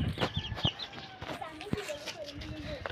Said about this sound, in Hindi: चूजे खोल दिया हमने